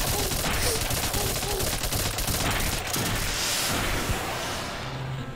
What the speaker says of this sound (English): And there was explosions!